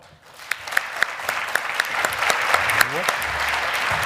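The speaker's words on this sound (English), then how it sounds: "Please give a big round of applause to Bill Holiber." An audience at a citizenship-program award ceremony breaks into applause for the man accepting an award, starting from quiet and quickly swelling into full, sustained clapping with a few sharp nearby claps and faint voices underneath.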